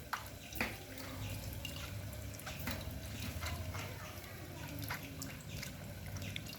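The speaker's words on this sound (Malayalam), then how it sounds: "അപ്പോൾ നമ്മൾ ഇതാ പുളി ഒഴിക്കുന്നുണ്ട്" Tamarind water poured into a pan for a Kerala wedding-style fish curry, a steady liquid trickle and splash running throughout at moderate level with a few brief clinks.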